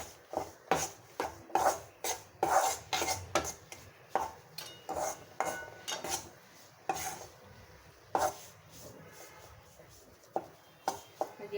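Spoon stirred through a ghee mixture for sukhdi, the Gujarati sweet, in a pan: repeated scraping, rubbing strokes at a steady, fairly quick rhythm, close and clear with no talking.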